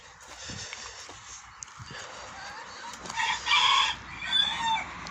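Hens cluck softly in the background while a rooster lets out a loud crow midway, with faint rustling around them.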